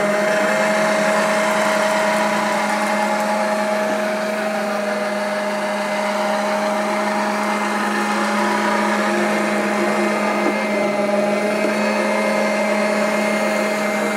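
Vileda VR 101 robotic vacuum cleaner running with a steady whirring motor drone and broadband suction hiss, close and continuous throughout, with faint rattling of small debris being picked up.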